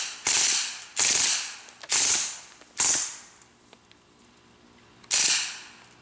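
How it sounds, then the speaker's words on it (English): Two suppressed 9mm M11 guns fire in four quick, sharp bursts close together, then fall quiet for a moment before one more burst lands. Each burst is a loud, rattling crack that dies away fast. "we're shooting two M11s suppressed."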